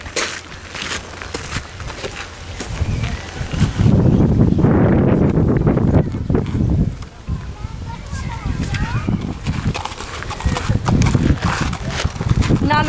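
A very large horse named Holly moving about, with hoof clip-clops, rustling and wind noise over a steady outdoor background.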